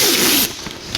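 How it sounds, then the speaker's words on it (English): A strip of tape is pulled off the roll and pressed onto a garage floor, giving a short, close ripping zip that fades into quieter scraping. "just put a piece of tape down"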